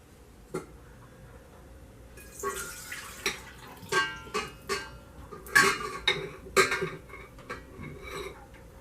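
Sourdough ingredients tipped into a KitchenAid stand mixer bowl, a run of close clattering knocks and scrapes against the bowl, with quiet room noise before and between them.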